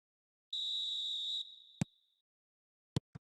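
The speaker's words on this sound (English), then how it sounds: "There's the whistle." Referee whistle in a football video game, a single clear shrill blast lasting about a second and trailing off, followed by a few sharp clicks in otherwise near silence.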